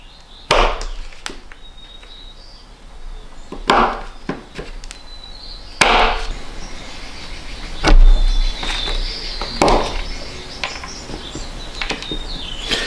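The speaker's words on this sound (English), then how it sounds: "I'm just going to use a knife and just cut little chunks off here" A knife cuts small chunks off a block, making roughly half a dozen sharp, close chops at irregular intervals of a couple of seconds. A low rumble sits in the background and no one speaks.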